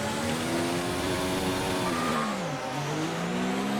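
A racing car in a video game, its engine droning loud and steady before the pitch drops sharply as the car spins, then picks back up, with no talk over it.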